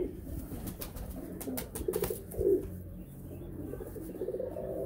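Golden pigeons coo softly at close range, low throaty calls recurring over faint background noise, with a few sharp ticks and rustles mixed in.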